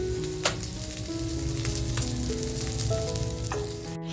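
Mutton tandoori chops sizzle steadily in a hot pan, a dense, continuous frying hiss throughout with a few sharper crackles and pops, fairly loud and close.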